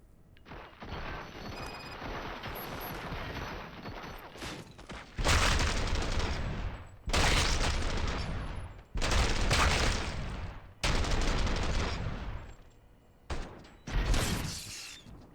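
Heavy gunfire in the RoboCop video game, with several loud bursts of sustained shooting separated by short pauses, mechanical clatter and impacts, and a quieter, eerie stretch beforehand.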